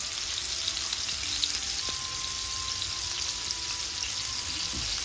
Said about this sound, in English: And we're cooking them in olive oil.